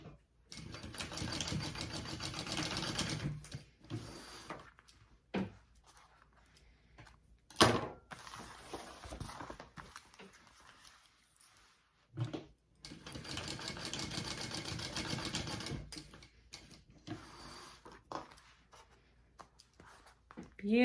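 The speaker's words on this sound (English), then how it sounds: "I'm just gonna baste that together so it stays all together" A sewing machine bastes a crossbody bag flap in two long, close, steady runs of rapid stitching, separated by quieter stretches with clicks and handling noises.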